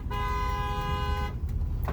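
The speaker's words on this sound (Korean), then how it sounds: "이 자식이 실컷 양보해주고 빵빵거리네." A car horn gives one sustained honk of over a second on a road near a Home Depot, loud over the steady rumble of the engine and traffic.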